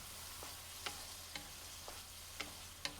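Chili powder and ginger garlic paste fry in hot oil with a steady soft sizzle. A spoon stirs the pan with a few regular light scraping taps.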